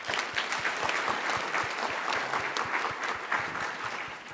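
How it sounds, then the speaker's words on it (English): An audience at the TechCrunch Disrupt 2023 Startup Battlefield claps for a health startup pitch, a dense, even wash of applause lasting several seconds with a faint voice beneath. "Give her a round of applause."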